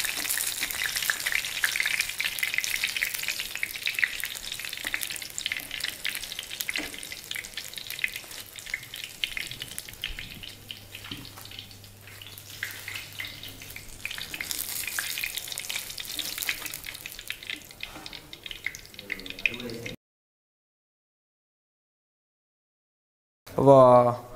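Stuffed masala mirchi bajji, battered chillies, frying in hot oil with a steady, close crackling sizzle, then a stretch of silence and a short burst of bubbling. A voice speaks at times under the sizzle.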